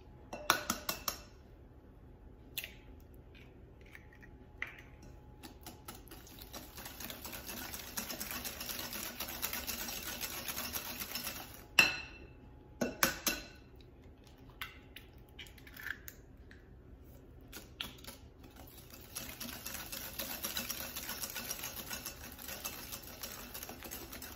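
Two whole eggs are mixed into chocolate cake batter in a bowl. Soft, quiet scraping and stirring run throughout, broken by sharp clinks of the utensil against the bowl.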